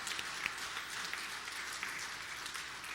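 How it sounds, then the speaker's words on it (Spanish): Church congregation applauding together as an offering of praise, a steady dense wash of clapping that holds evenly and fairly loud throughout, with no speech over it. "Le vamos a dar al Señor una ofrenda de palmas"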